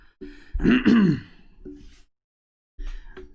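A throaty, rasping cough or throat-clear into an elbow close by, followed by a breathy exhale and a short second cough after a brief silence.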